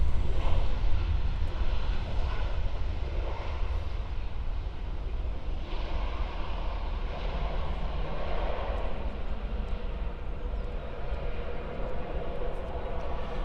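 A Boeing 737 airliner arrives at Stansted Airport, its broad engine roar holding steady and fairly loud for the whole stretch, with no voices over it.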